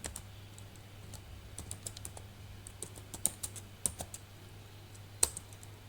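Rapid, irregular clicking of keys on a computer keyboard as a command is typed, light taps clustered in quick bursts over a steady low electrical hum.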